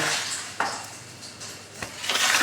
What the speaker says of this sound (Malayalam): ഇനി ഈ പാത്രങ്ങളൊക്കെ ഒന്ന് സെറ്റാക്കി വയ്ക്കും